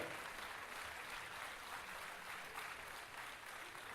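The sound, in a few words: audience applause at concert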